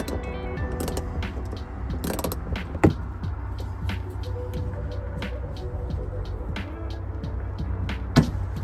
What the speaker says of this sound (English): Okay, I dug it out. Dug it out with a screwdriver.